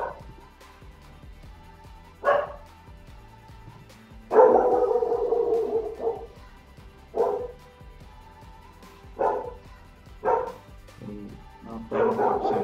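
A dog barks repeatedly indoors, sharp single and double barks spaced a second or two apart, with one longer run of barking and a faint voice in the background.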